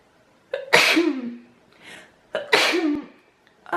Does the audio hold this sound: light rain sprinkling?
no